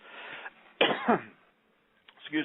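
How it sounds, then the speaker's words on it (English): A person coughs hard, a loud harsh burst followed by a shorter one after a brief pause, close to the listener. "I can't quit coughing"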